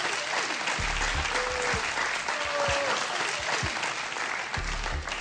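Studio audience applauding on a Czech television quiz show, a steady dense wash of clapping that carries through the whole stretch with no talk over it.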